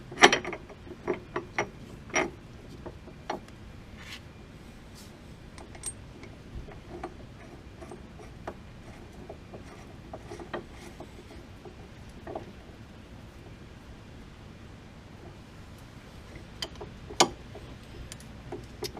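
Ratcheting clicks and metallic ticks from adjusting bolts being tightened on a C5 Corvette Z06 rear leaf spring, with a burst of sharp clicks at the start, sparser taps later and one loud click near the end.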